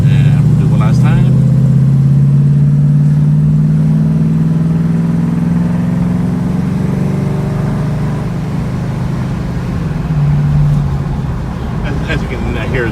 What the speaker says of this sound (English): As you can hear, the transmission just shift really nice, no slipping whatsoever.